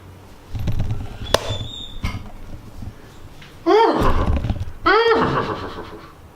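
A horse neighs twice in loud, close whinnies with descending pitch, the first after a stretch of low rumbling and a sharp click, the second following a short pause.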